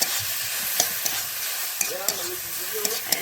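Drumstick leaves mashed with garlic and sugar for sajne pata bhorta get stirred in a pan over a low, steady sizzle. A few sharp spatula scrapes and clinks cut through.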